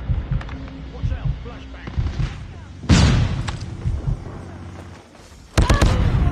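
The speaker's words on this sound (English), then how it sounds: "flashbang" A flashbang grenade going off in a first-person shooter video game, one loud sudden blast midway amid gunfire thumps and game noise, followed by another sharp burst near the end.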